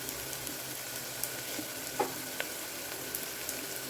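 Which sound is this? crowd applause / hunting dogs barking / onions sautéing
onions sautéing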